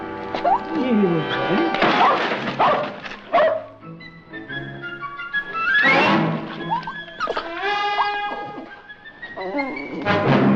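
A small pup yips and barks in short bursts amid a classic Western scene, the dog sounds mixing with a man coaxing it, with frequent speech throughout.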